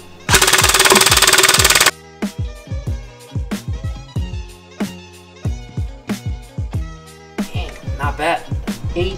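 An ICS SIG 552 airsoft rifle fires a rapid burst, a dense, loud mechanical rattle lasting about a second and a half, followed by scattered sharp close clacks and knocks, with people talking nearby.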